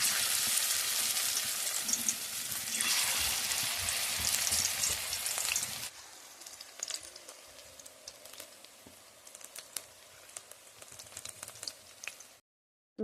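Spinach pakoras fry in hot oil, giving a loud, dense sizzle for several seconds. The sizzle then drops to a quieter crackle with scattered pops and stirring clinks before cutting out.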